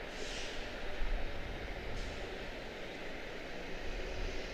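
An American Airlines Boeing 777, a heavy jet bound for Paris at Charlotte, produces a steady, moderate engine rumble, fairly distant and even, with no talking.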